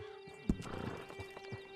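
Horse hooves clip-clop in the video game Red Dead Online, a few soft, spaced thuds under a sustained tonal hum, fairly quiet with no talk.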